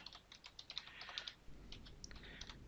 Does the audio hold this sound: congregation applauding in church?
no